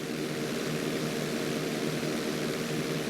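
A propeller airplane engine drones steadily and close up during a GTA V flight school inside loop, a constant smooth hum with no breaks or other sounds.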